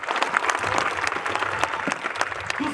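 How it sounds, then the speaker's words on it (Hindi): A crowd at a direct-selling success event gives loud, sustained applause, dense overlapping claps filling the whole stretch with a faint murmur of voices underneath. "एक जोरदार ताली आपकी खुद के लिए होनी चाहिए"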